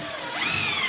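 Cordless DeWalt screw gun briefly whirs while driving a screw into decking, a short rising motor whine close by with no speech.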